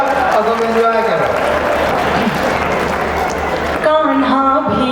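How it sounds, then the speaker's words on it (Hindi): Audience applause at a Hindi poetry recital in Jabalpur, a steady wash of clapping across the whole stretch, with a singing voice and tones above it at the start and end. "जोर से ताली बजाओ और तुम एंजॉय करो।"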